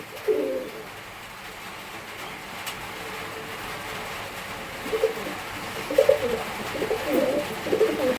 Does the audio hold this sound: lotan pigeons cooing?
yes